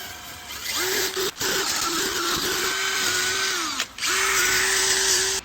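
Power tool cleaning bolts on a 1956 VW Beetle axle, a close whining drill-like motor held in long steady bursts with brief stops and pitch dips under load.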